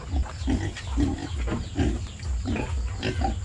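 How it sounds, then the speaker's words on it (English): A big pig grunts in a rural countryside setting, giving a rapid, rhythmic series of low, close, fairly loud grunts that continue without pause. "That's a big pig."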